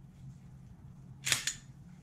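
A Glock Gen 5 pistol gives two sharp metallic clacks in quick succession as its magazine is removed and its slide is cleared, close and crisp over a quiet low hum.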